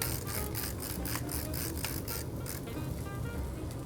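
A pepper grinder cranks over a steak for cast-iron pan-searing, giving close, repeated gritty rasping pulses in a quick rhythm that fade into a steady background hiss.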